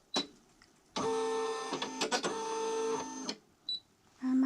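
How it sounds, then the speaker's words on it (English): A home embroidery machine starting up to stitch a monogram or applique on a hooded towel, heard as a short beep and then a steady whirring, buzzing motor run with a few clicks, close and clear, before it stops and beeps again. "So I'm going to hit my embroidery machine"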